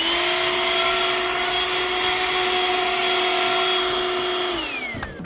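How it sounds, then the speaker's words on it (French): A handheld car vacuum cleaner powered from the cigarette lighter runs over the fabric seats of a Ford Mondeo, a loud steady motor whine and airflow rush that winds down at the end. "je voudrais passer un petit coup d'aspirateur"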